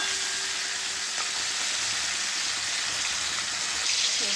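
Chopped onion, tomato and cumin seeds frying in oil for a prawn curry give a steady, close, crackling sizzle that runs unbroken throughout with no talking.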